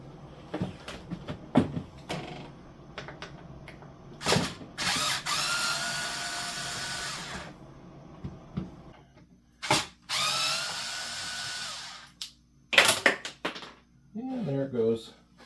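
Power drill driving out the screws of a metal bracket on a refrigerator during a thermostat replacement, several whirring bursts of a few seconds each with clicks and handling between, close, and someone speaking in between.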